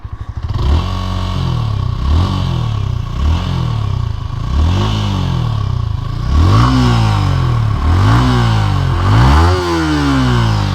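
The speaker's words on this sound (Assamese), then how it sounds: "let me make U here the engine or the exhaust note of the bike" A Yamaha R15M 150cc motorcycle being revved in place, the exhaust note climbing and falling in a series of repeated throttle blips over a steady idle, loud and close.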